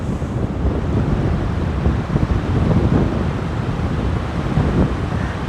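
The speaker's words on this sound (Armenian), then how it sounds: "Քամի է, բայց քամի է խաղում" Strong wind buffeting the microphone, a loud continuous low roar with gusty surges throughout, no speech.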